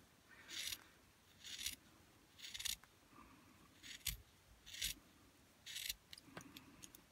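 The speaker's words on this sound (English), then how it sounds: "get your scissors, cut off your thumb part." Scissors snipping through a fabric glove, with about seven short, crisp cutting strokes at an uneven rhythm, close and quiet.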